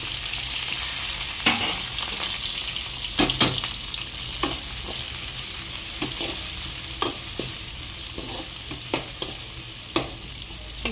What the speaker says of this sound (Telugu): ఇది కాస్త ఫ్రై అయ్యేంత వరకు అటు ఇటు కలుపుతూ చూసుకోవాలి.